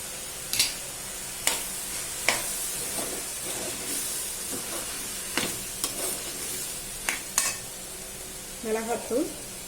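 Mixed vegetables with turmeric, chili powder and garam masala being stirred in a frying pan for a restaurant-style sabzi: steady sizzling and hiss, with repeated sharp scrapes and clinks of a spatula and a brief murmur near the end.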